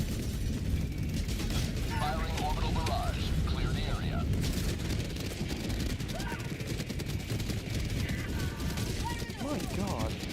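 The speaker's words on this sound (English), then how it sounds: "Firing orbital barrage." Orbital barrage strikes pound the battlefield in Helldivers 2 on the hardest difficulty, a continuous loud rumble of blasts and gunfire with speech over it.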